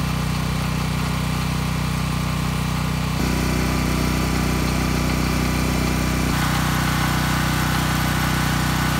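A Sportsman dual fuel RV generator runs steadily nearby, a constant even engine hum and drone with slight shifts in tone, no talking.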